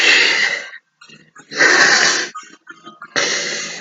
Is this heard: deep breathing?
yes